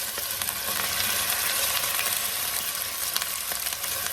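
Chicken pieces browning in a hot pan for caldereta, a dense continuous sizzle with scattered crackles and pops, close and steady throughout.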